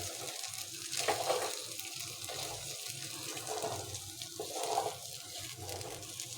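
An egg fries in a pan for egg rice, giving a steady, moderately loud sizzle that keeps up throughout, with a few brighter crackling surges and faint scraping now and then.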